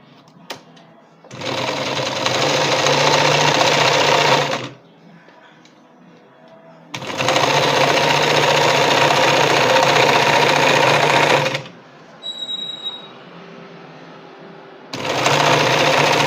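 A domestic sewing machine hems a curtain for a Jumpy van, whirring loudly in three sustained bursts of rapid stitching separated by quiet pauses with faint handling noises.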